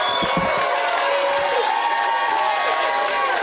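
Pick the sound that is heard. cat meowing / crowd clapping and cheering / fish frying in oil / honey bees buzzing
crowd clapping and cheering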